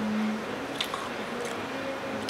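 Someone chews food mukbang style in a restaurant and lounge: soft, close biting and squishing sounds over a steady low room hum.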